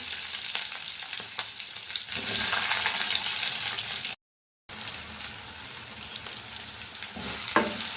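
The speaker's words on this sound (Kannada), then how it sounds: "ನೋಡಿ ಈರುಳ್ಳಿ ಎಲ್ಲ ಚೆನ್ನಾಗಿ ಫ್ರೈ ಆಗಿದೆ" Onions with curry leaves and green chillies sizzle in a pan, a continuous close frying hiss that swells louder midway, with stirring scrapes and one brief silent gap.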